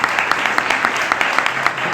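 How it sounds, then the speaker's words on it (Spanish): Applause erupts from an audience for Doña Dolores, dense and continuous clapping at close range throughout, with a few voices mixed in. "Un aplauso"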